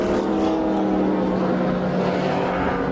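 Naturally aspirated V12 engine of a white and green IMSA GT race car at Riverside in 1985, a loud steady high-revving drone sustained throughout without pause.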